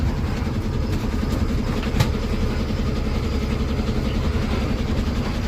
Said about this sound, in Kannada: ಅದು ಗುಲ್ಬರ್ಗ ಹೋಗ್ತಿರೋ ಗಾಡಿ